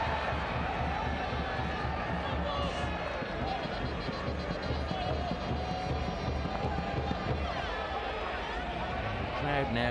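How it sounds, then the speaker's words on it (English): Hockey crowd at a men's Hero Hockey India League final surging steadily during a fast attack, a continuous loud roar with commentary talking over it throughout. "every attack the Lancers make at speed, you just hear this surge from the crowd"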